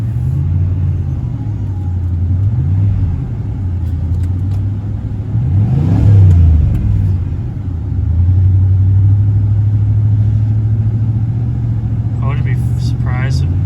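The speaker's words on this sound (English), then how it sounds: "you rev it up, it gains the pressure" A Ford F-150 pickup engine revs and rumbles up close, surging in pitch a few times and holding a steady drone, with people talking over it.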